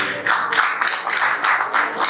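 Audience applause for a poet at a mushaira in Bangalore, a steady patter of clapping from a seated crowd lasting a couple of seconds at moderate loudness.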